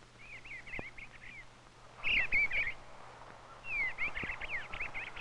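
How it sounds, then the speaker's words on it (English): Soft, warbling phrases from a bluebird of the thrush family come in several short bursts over faint background noise, moderately distant and gentle. "The bluebird has a soft, warbling song."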